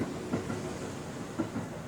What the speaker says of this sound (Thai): ข้างหน้าก็ติดรถไฟ